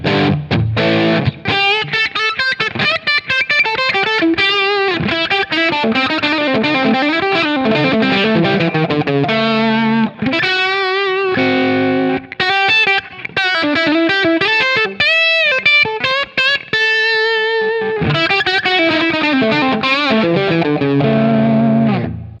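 Distorted electric guitar played through a Line 6 Helix using its internal cab simulation, with a blended 421 mic model: a continuous run of driven chords and melodic lines, loud and sustained, with no talking.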